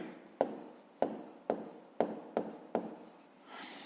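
Handwriting with pen on paper, written out as a worked answer to a fifth-grade maths exercise, six short close scratchy strokes at a steady rhythm, quiet and alone with no talking.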